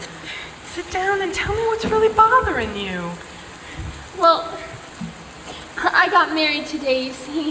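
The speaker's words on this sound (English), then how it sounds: "come sit over here where the rain can't reach you" Steady rain falls outdoors beside a woman upset on her wedding day, a continuous soft patter under two people talking throughout.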